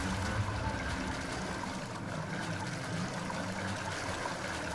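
A waterfall in the video game Dragon Quest Builders 2 gives a continuous rushing, churning water noise, steady and moderately loud throughout with no voices.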